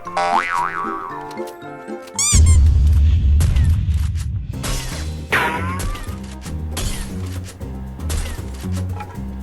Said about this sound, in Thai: ทำไมรถระเบิด